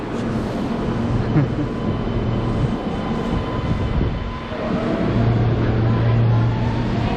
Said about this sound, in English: So there goes our small little train.